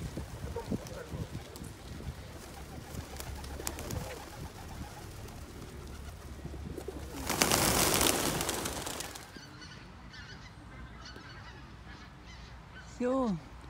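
Ducks call repeatedly in a quiet autumn outdoor setting, honking and quacking at a distance. A brief louder rush of wingbeats comes in the middle as they fly off, and a faint voice can be heard at times.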